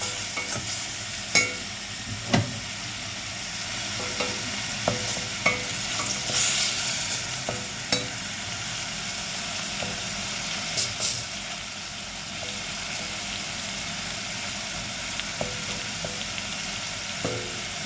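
Ingredients for Korean seaweed soup sauté in a hot pan, a steady close sizzle and hiss running throughout with repeated scraping stirs and clinks of a utensil, no voices.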